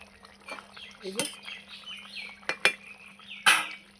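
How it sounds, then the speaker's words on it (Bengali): A metal lid lifts off a pot of simmering fish curry with a sharp clank, followed by a few light metallic knocks and scrapes in a home kitchen, with birds chirping faintly in the background. "ঢাকাটা তুলে নেব"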